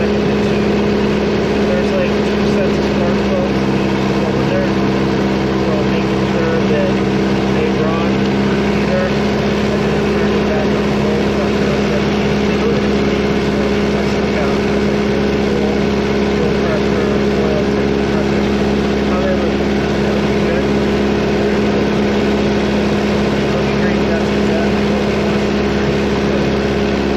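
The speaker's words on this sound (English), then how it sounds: "We're going to make sure the engine runs good." A Piper Warrior light aircraft's piston engine runs steadily at a loud, even drone throughout a pre-flight engine check, with a person talking over it.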